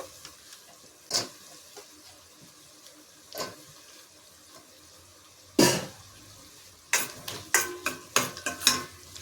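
Raw banana pieces tipped into a pan with sizzling garlic paste for a Telugu curry, followed by sharp scraping stirs and clatters that get busier toward the end, with quiet frying hiss between.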